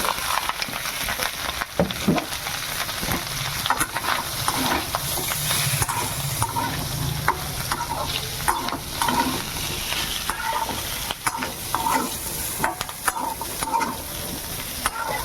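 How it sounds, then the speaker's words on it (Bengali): Potatoes and drumstick stems are stirred into hot oil in a pan with grated ginger, producing a steady sizzle and frying hiss broken by repeated scraping stirs, close and moderately loud with no voices. "এবার সবজিগুলো দিয়ে দেবো, আলু আর ডাঁটা।"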